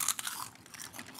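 Someone chews a crunchy, churro-like snack close up, with repeated crisp crunches that sound quiet and dry, and no one talks.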